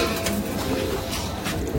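A restless desi pigeon coos softly and briefly at close range over steady background noise.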